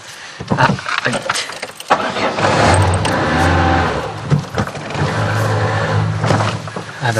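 A cold car engine cranks and struggles, starting with uneven sputters and stumbling revs before settling into a rough idle, close by, with keys jangling and people talking over it.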